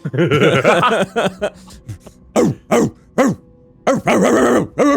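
A man imitates a dog with a voice, loud repeated barks and yelps in short bursts, mixed with laughter and talk from a group of tabletop role-playing players.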